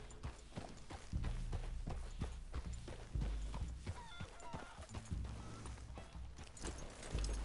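Steady clip-clop of horse hooves at a walking pace in Red Dead Redemption 2, rhythmic and fairly close, with faint game ambience and no speech.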